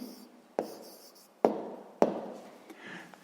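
A pen writing on paper while working through a 6th-grade maths exercise, heard as soft scratchy strokes with three sharp taps of the pen against the page, close and alone with no talk.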